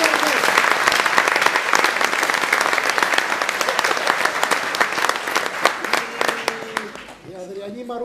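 An audience at an amateur village theatre performance applauding, dense steady clapping close and loud, thinning out at the end as a voice begins to speak over it.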